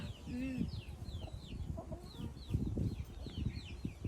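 Chickens on a farm during a paddy harvest cluck and murmur in a busy, close-up cluster, with scattered bird chirps overhead and low rustling around them.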